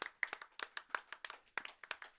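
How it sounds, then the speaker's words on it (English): A single person's hands clapping in a steady rhythm, about a dozen sharp, evenly spaced claps, close and fairly quiet, with no crowd behind them. "Everybody give him a round of applause."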